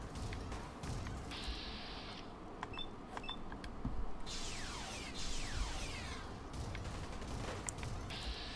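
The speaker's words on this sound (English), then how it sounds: "I've got my Star Trek phaser. Yeah, eat some bolts of light." Sci-fi phaser shots fire in the video game Fallout 4, laser zaps and descending whines heard a few times over a dense, noisy game background of rumbling and clatter.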